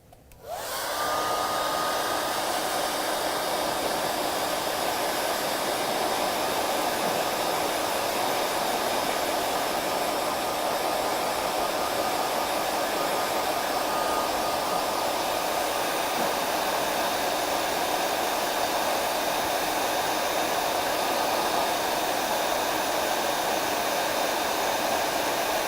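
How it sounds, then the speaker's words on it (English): A hair dryer drying acrylic paint switches on and runs at a steady, loud whir for the whole stretch, with no talking. "So then I'm going to take my hair dryer and just dry."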